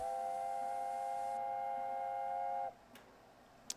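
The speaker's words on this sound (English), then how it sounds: "Whistle for final good measure, and we're ready to go" An LNER Class A4 steam locomotive whistle in Train Simulator 2020 sounds as one long, loud chime-like blast of nearly three seconds, then cuts off to quiet with a couple of faint clicks.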